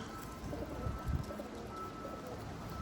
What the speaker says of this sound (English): These birds are just beautiful.